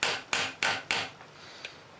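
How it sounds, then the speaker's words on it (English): Four sharp, evenly spaced hammer blows drive a screwdriver into a stripped screw on a Polaris 400 engine during disassembly, each strike ringing briefly before a quieter tap and light scraping follow. "Just trying to drive that screwdriver down in that screw"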